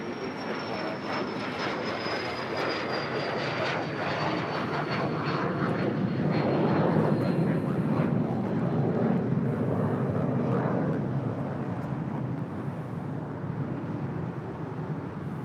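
Airliner rolling for takeoff on runway 24 left at LAX, a steady loud jet engine roar that builds slightly as it accelerates, with wind noise across the microphone and no voices.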